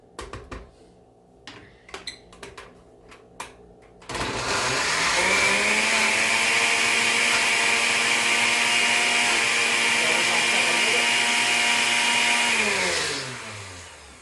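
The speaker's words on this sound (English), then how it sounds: "I'm going to finish blending up" Kitchen blender whirring through a frozen healthy shake, a loud steady motor roar that starts abruptly after some clinks and handling, holds for about nine seconds, then spins down, nearby and alone.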